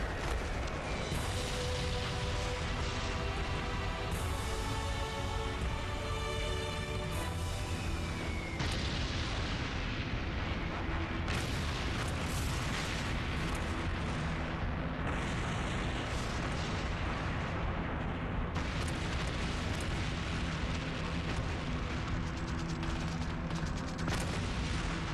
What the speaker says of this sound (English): More than 200 Allied bombers will drop over 500 tons of bombs on the monastery.